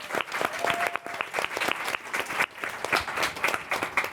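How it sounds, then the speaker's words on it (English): An audience at a multi-location panel event breaks into a loud, sustained round of applause: dense, steady clapping that fills the whole stretch, with a brief dip midway. "I think that deserves a round of applause"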